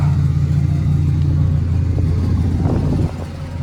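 A Ford Mustang freshly converted to a manual transmission idles and revs with a deep, loud, rumbling engine drone, close by, easing slightly toward the end.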